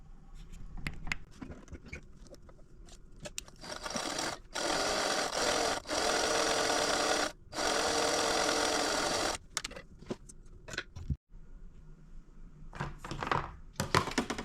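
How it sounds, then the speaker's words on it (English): A sewing machine stitching a quarter-inch seam along a folded fabric strip runs in several fast whirring bursts separated by short stops and small clicks, close and fairly quiet. "fold this in half and stitch a 1/4 inch seam"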